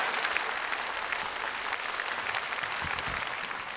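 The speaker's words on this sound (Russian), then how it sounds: "Аплодисменты звучат." Steady, dense applause from a concert audience fills the hall, even and continuous throughout at a moderate distance, with no voices.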